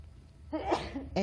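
A single loud, close sneeze that bursts in mid-clip and fades, with a brief noise starting right at the end, heard during a city council meeting.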